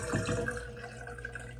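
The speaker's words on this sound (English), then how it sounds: "Well, it's draining." Water gurgling down the trip-lever drain of a 50-year-old bathtub, a short, quiet, continuous trickling slurp with no voices.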